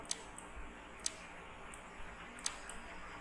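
Sharp, quiet clicks of a computer mouse, a few spaced irregularly over low background hiss.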